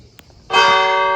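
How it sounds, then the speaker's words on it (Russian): A church bell strikes once, loud and close, its bright metallic tone ringing on and slowly decaying after a brief quiet moment. "Вот это колокол."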